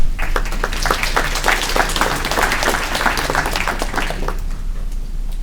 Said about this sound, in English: I applaud you guys.